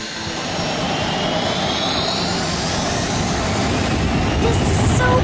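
A cartoon jet train launches with a loud, steady jet-engine roar that swells slightly and rises in pitch, ending in a bright burst of high hiss.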